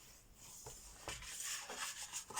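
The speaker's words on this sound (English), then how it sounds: "So then we'll fold and burnish that one." A paper fold on an easel card is burnished with soft, scraping rubs, several quick strokes back and forth, quiet and close with no talking over them.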